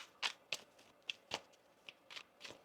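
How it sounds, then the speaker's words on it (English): Quiet, close riffling and soft slaps of tarot cards being shuffled, in uneven bursts. "One more shuffle here."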